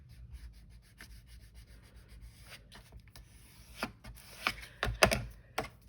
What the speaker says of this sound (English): use your scraper on that one, just to really get your glue stick in around everything